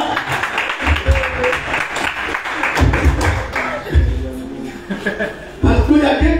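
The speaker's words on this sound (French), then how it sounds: "On acclame le Seigneur. Alléluia." A church congregation applauds and cheers in praise, mixed clapping and voices swelling in several loud waves with talk over it.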